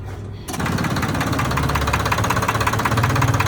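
A Farmtrac 60 tractor engine runs at a pump job, starting up abruptly after a brief quiet moment and then chugging loudly and steadily with a rapid knocking rhythm, close by.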